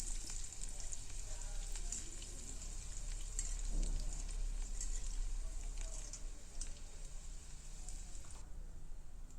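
Coconut pieces and garlic fry in hot oil for a poha mixture, giving a continuous soft sizzle and crackle with occasional light pops and stirring, fairly quiet and steady with no talk.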